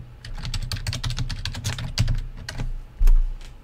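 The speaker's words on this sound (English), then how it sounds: "And then we can even type out a message." Quick, uneven clicking of a laptop or PC keyboard as a short message is typed out, close and fairly loud, with a heavier key thump near the end; no voices.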